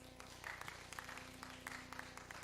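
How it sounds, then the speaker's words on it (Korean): Applause from a church congregation during a Sunday worship service, a quiet scattered patter of hand claps over a steady low hum, fairly distant and soft throughout. "박수 한번 쳐줘봐요"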